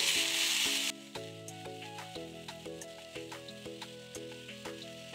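Eggplant slices frying in a covered pan for baigan bharta, one side already browned: a loud close sizzle at the start, then quieter spitting and stirring under a musical background, no talk.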